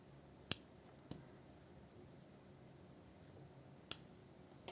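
Scissors snip crochet yarn ends on a mandala in a quiet room, giving a few crisp, isolated clicks spaced well apart against near silence.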